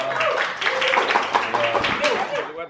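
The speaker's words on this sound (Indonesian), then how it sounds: "Dan juga tepuk tangan buat Inbag Management." Scattered clapping from a small group at a farewell gathering, brief and moderately loud, mixed with talking voices throughout.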